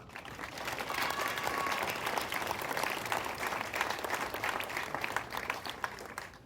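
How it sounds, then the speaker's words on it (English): Audience at an open-air museum tour clapping for volunteers, a fairly faint, sustained round of scattered hand claps heard from some distance, steady throughout. "I think they deserve a round of applause"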